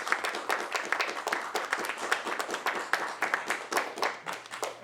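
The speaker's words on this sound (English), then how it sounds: "the virtual audience is applauding too" Sustained applause from a small virtual audience, many hands clapping steadily and fairly close for several seconds with no voices.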